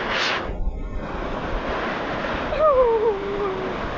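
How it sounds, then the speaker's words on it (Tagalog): Steady, heavy wash of heavy rain and rushing floodwater with wind noise fills the clip, with a brief gusty burst early and a faint tonal whine later. "Kusog kayong ulan"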